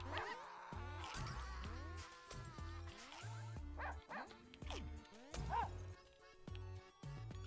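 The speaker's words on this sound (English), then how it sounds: "Damn dog, get out of here." A dog barks and whimpers in a Russian subway, repeated yips and barks over a low rumbling train hum, fairly close, with scattered voices around.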